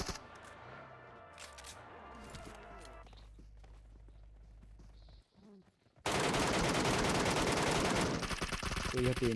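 Gunfire from an MK14 rifle in PUBG mobile, with a dense burst of loud shots and game effects filling the latter half after a quieter stretch of background game audio and movement.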